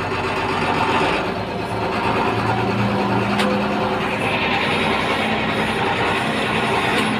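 A YTO X1304 tractor pulls away in first gear, its diesel engine rumbling loud and close with a steady drone and slight shifts in pitch as it rolls forward; no talking.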